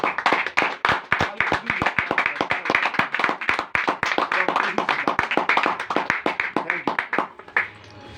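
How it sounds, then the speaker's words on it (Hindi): A church congregation claps hands together in a fast, steady rhythm for about eight seconds, loud and close, with a brief pause near the end. "ऐसे ताली बजाते हैं।"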